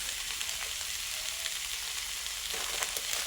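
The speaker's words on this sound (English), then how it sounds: "Stir it always, then it will be mixed very well." Breakfast ingredients frying in a pan with salt, pepper and chili flakes, a steady broadband sizzle running throughout with occasional scrapes of stirring, close and continuous with no talk.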